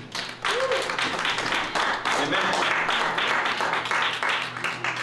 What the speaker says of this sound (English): Give Jesus a clap offering.